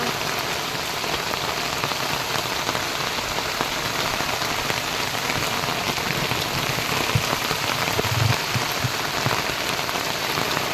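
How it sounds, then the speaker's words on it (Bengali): Heavy monsoon rain pours steadily over a river in the Sundarbans, a dense, loud, unbroken hiss of drops hitting water and surfaces close by. "আর কেমন জলে বর্ষা হচ্ছে"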